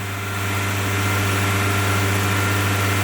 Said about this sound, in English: you'll hear that it will idle on its own